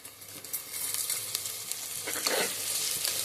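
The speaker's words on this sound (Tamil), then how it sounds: "இது கொஞ்சம் வதக்கி விட்டுக்கலாம். நல்லா வதங்கட்டும்." Green chillies sauté in a hot pan with steady, continuous sizzling and occasional stirring scrapes, close and moderately loud, with no voices.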